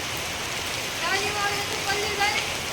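Steady rain patter fills the background while people talk over it.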